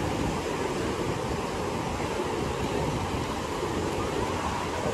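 Surf at My Khe beach in Da Nang, Vietnam, a constant broadband roar of waves and wind that stays steady and fairly loud throughout, with no talk.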